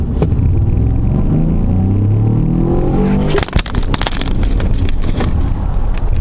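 A 2018 Ford Explorer Sport with 365 horsepower accelerates hard, its engine building in pitch before a sudden jolt and clatter, then roaring loud and close.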